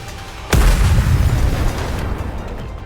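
Missiles fire and explode in the NIKKE x Stellar Blade video game: a sudden loud, close boom hits after a short lull, then a dense rumbling blast that slowly tails off.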